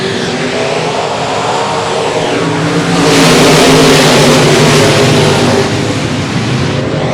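Race cars roar off the start at Boothill Speedway, a loud dense wall of engines that swells sharply midway as the field accelerates together and holds on at full volume.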